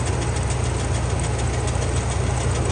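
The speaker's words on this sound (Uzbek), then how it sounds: "Mana bu traktor esa tegirmonni mana shunday qilib aylantiradi" A tractor engine drives a rice-husking mill at an Afghan rice mill. It runs as a loud, steady, close chugging drone with a rhythmic low pulse throughout and no voices.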